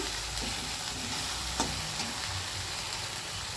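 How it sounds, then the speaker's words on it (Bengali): Spice paste (masala) for a tengra fish curry being stir-fried in a pan, giving a steady close sizzle with soft scraping from the stirring and one brief sharper clink partway through. "ভালো করে মশলাটা আমি কষিয়ে নিচ্ছি।"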